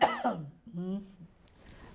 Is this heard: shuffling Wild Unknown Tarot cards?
no